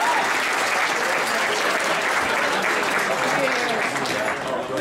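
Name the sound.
round of applause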